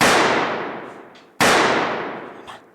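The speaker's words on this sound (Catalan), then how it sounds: "li fot 2 trets al cap a un pam de distància" Two sharp gunshots, a sound effect for a scene where Texas Ranger Frank Hammer shoots Bonnie in the head at point-blank range, each a loud crack with a long ringing decay, about 1.4 seconds apart.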